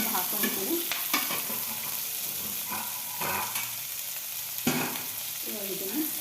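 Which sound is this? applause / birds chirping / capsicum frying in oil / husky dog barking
capsicum frying in oil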